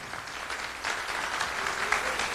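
A hall of People Power Party lawmakers claps to welcome Kim Byong-joon for a special lecture. The dense, even applause fills the room without pause and swells slightly in the second half.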